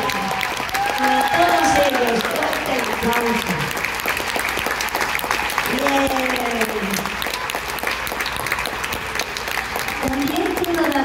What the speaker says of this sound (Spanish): Quisiera que le diéramos un fuerte aplauso a todos mis compañeros.